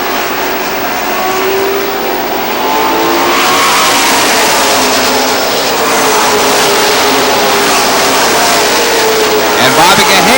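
Pro stock race cars roar around the oval at Lee Speedway in New Hampshire, a loud, continuous engine drone with shifting pitch as the pack passes, with a commentator talking over it.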